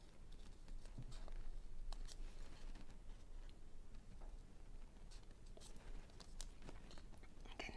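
Scissors snip around the corners of a paper bookmark to round them, a series of quiet, irregular crisp cuts and paper rustles, close but faint against a soft background hiss.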